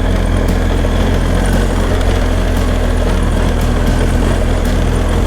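A motorbike engine drones steadily and close while climbing a rocky bridle track, with scattered sharp ticks of rocks spat out from the rear wheel.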